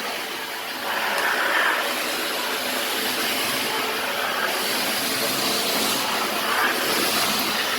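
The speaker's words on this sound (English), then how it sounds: "right now we are vacuuming the floor" A vacuum cleaner runs across a floor during prep work, a steady hissing whine that starts after a brief quiet moment and holds level, with small shifts as it moves, and no talking.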